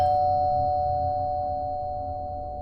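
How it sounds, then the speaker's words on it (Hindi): An electronic chime rings as a single sustained tone that fades slowly over a couple of seconds, with a soft low hum underneath and no voices. "दरवाजे की घंटी बजी।"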